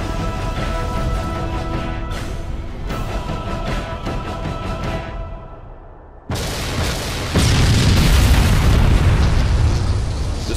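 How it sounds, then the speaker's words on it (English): A Scarab walker blows up in a Halo Wars cutscene: a ringing mechanical drone fades out, then a sudden loud explosion hits and swells into a heavy, sustained rumbling roar. "The Scarab is destroyed."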